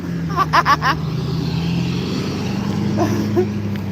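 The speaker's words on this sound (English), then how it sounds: "We got traffic" Road traffic passes outdoors, a steady engine hum with a vehicle droning through, while people talk briefly near the start and again toward the end.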